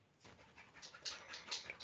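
A retriever pants faintly in quick, rhythmic breathy puffs beside water during a retrieving trial, with nothing else heard in the brief moment.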